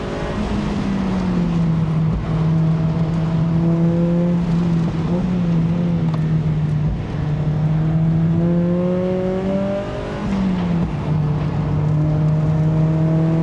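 A Mazda NC Miata engine droning loudly at steady high revs on a race track, pitch dipping briefly and climbing again through gear changes, heard from inside the car with no talking.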